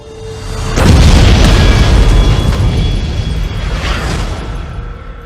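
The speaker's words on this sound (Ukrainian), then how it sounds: "Місто здригнулося від вибуху." An explosion in a Jackie Chan film trailer: a deep, heavy boom bursts in and rolls on as a long rumbling roar, loud and cinematic, with debris-like crackle fading slowly.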